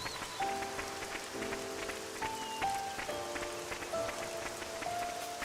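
Steady rain pattering on surfaces in the video game Torna: The Golden Country, a continuous dense hiss with tonal game music notes layered on top.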